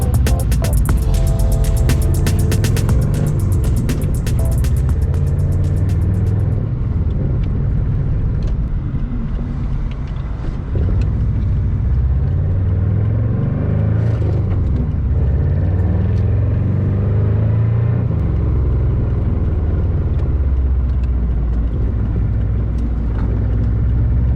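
A 1999 Subaru Impreza 2.5 RS drives over frozen Minnesota winter roads, its engine a steady loud low rumble with road and tire noise throughout, the drone rising and falling gently with speed.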